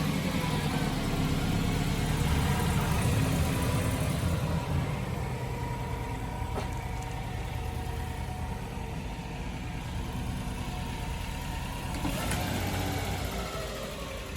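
A Subaru WRX engine cranks and settles into a steady, loud idle, a continuous low rumble running close by throughout with no talking.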